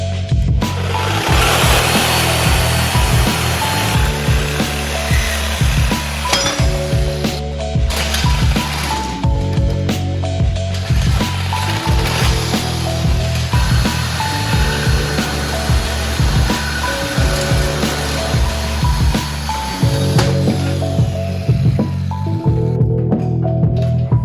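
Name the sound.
power saw cutting metal frame beams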